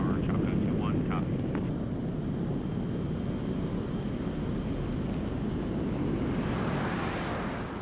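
A fighter jet climbs after takeoff during a Red Flag exercise at Nellis, a broad, loud roar with wind buffeting that holds steady and grows a little brighter toward the end. A radio voice talks over it early on.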